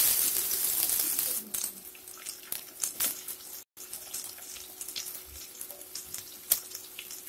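Onion and garlic frying in a pan for a soya bean and dal dish, a faint steady sizzle broken by scattered light clicks and utensil taps, close and quiet, with no talking.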